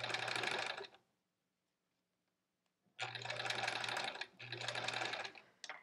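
A sewing machine stitches quilt pinwheel blocks in three close, loud bursts of fast whirring, separated by a long quiet pause and then a brief gap.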